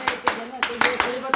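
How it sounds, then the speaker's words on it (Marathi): Several hands clap in short bursts around a college camp meal, with a steady hum and speech-like murmur running underneath between the claps. "अयो टाळ्या. NSS क्लॅप गो."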